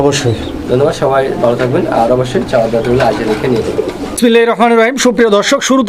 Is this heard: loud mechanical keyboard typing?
no